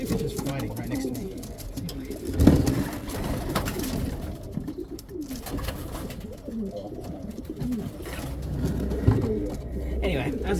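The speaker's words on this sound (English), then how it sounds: "There's 2 pigeons fighting right next to me." Two racing pigeons scuffle close by, with cooing and bursts of flapping and scrabbling under someone speaking through most of the stretch.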